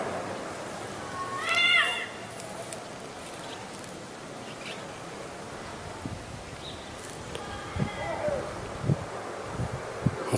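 Cats in Baba Amr, Homs, give a couple of faint, short meows, one near the start and another later, over a noisy background of rustling and scattered knocks.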